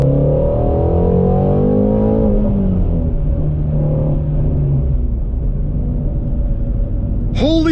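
A Ford Mustang GT350 with a manual transmission rumbles as it drives, the engine rising in pitch under acceleration, dropping at a shift, then settling into a deep, steady drone, heard loud and close from inside the car.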